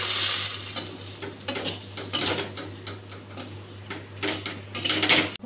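Semai vermicelli frying and being stirred in a small amount of white oil, giving a crackling sizzle with clattering spoon scrapes against the pan, steady and close throughout, over a constant low hum.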